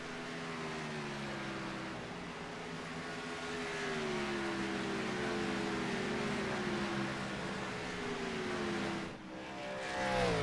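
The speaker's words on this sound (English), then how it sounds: "He's been probably the fastest car on the racetrack, Cameron, over the last few laps." NASCAR race cars in the iRacing video game hold a loud, steady engine drone at speed on an oval track, with a dip and renewed roar near the end, and no talk.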